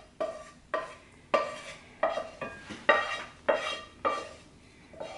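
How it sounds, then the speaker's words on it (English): A utensil stirs a tuna casserole mixture with milk and celery in a bowl, making about eight rhythmic, close scraping and clinking strokes in an otherwise quiet kitchen. "And I'm just going to mix this up good."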